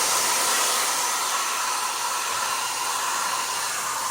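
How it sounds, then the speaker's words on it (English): An Annlary ionic hair dryer blows close by, a loud, steady rushing whoosh of air with a constant motor hum and no voices. "You guys go get your Annlary hair dryer and tell me what you think about it."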